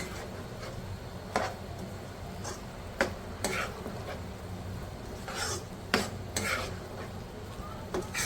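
Ground boondi being stirred into sugar syrup for motichoor laddu, with a spoon clinking against the pan in several scattered knocks over a low, quiet background hum.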